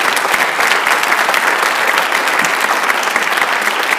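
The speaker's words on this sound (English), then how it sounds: "Give them a huge round of applause." A school auditorium audience at a high school senior honors night claps in a sustained, dense round of applause, loud and steady throughout with no talking over it.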